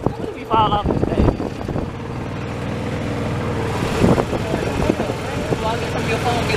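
A motorboat engine drones steadily during a boat ride, loud and close with wind buffeting the microphone, while people talk over it.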